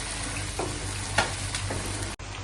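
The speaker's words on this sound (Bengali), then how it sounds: "মশলাটাকে ভালো করে কষিয়ে নেব।" Spice masala with tomato sauce sizzling in a pan, a steady bright frying hiss with soft stirring scrapes, close and continuous with no talk.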